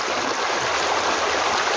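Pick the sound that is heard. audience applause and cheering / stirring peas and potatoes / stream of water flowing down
stream of water flowing down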